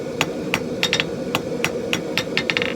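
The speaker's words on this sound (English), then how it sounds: "I'm just going to forge a taper on the end" A hammer strikes quarter-inch round steel bar while forging a taper on its end, about a dozen sharp metallic ringing blows in an uneven rhythm, close and loud over a low background hum.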